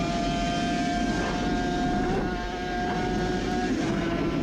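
Suzuki RG500 two-stroke racing motorcycle struggling to pick up on throttle during an onboard lap at the Isle of Man, its steady droning engine note loud and continuous under heavy wind rush.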